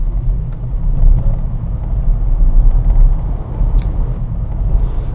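A Peugeot e-208 GT electric car accelerating hard, heard as a steady low road rumble and tyre noise from inside the cabin, continuous and fairly loud with no voices.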